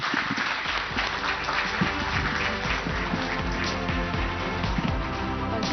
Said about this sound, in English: a big round of applause for our speakers here